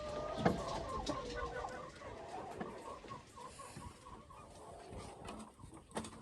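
Mardi chickens and roosters cluck and cackle in a farm pen, a busy flock of overlapping calls at close to middle distance, fairly soft with occasional sharper squawks.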